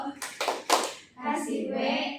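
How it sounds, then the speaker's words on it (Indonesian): A classroom group of students performs a 'tepuk wow' clap chant: a few sharp claps in rhythm, then voices chanting the spelled-out letters together, fairly close and loud. "Kita kasih tepuk wow"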